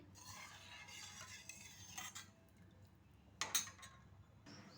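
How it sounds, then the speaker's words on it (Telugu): Rava being stirred into water in a pot to keep lumps from forming, a soft, steady scraping swirl with a couple of louder spoon clinks against the vessel. "మనము ఇది ఉండలు లేకుండా మంచిగా మనం ఇలా కలుపుకుంటూ ఉండాలి."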